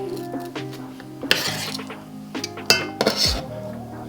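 Vegetables for a cabbage soup dropped into a cooking pot in a home kitchen, giving a few scattered clinks and rustling thumps of produce against the pot, moderately close with quiet gaps between.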